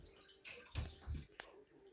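Fresh water pours and gurgles into an aquarium tank, a faint, close splashing with a few uneven surges and bubbling bursts.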